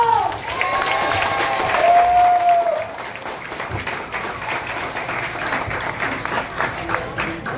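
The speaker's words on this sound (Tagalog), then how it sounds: "milyon-milyon palakpak muna para kay Ma'am Nancy Bando!" Audience clapping and cheering at an award event for an honoree, dense crowd applause with a brief whistle early on, loud at first then settling slightly, with some voices mixed in.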